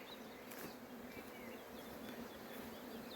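Honey bees buzz in a dense, steady swarm as they are shaken from hive frames to stock nucleus colonies, a continuous faint hum with no voices.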